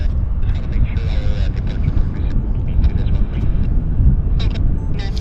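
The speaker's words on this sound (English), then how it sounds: "This is our SmartLynx A330 that's taxiing into position" A SmartLynx Airbus A330 airliner taxiing at Vancouver Airport, heard as a steady, loud low rumble and whine of jet engines throughout, with faint higher clatter over the top.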